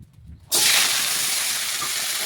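Pieces of ghee bitter gourd go into a hot pan greased with ghee, bursting into a loud, sudden sizzle that holds steady and close after a quieter opening moment; no one speaks.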